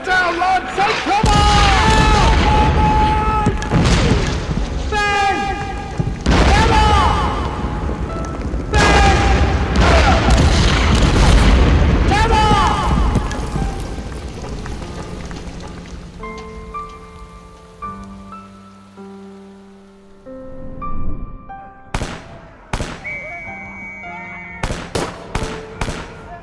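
Artillery shells burst during a World War I trench bombardment in an audio drama, a run of loud, close, crashing booms and rumbling blasts that give way to quieter scattered cracks and pops.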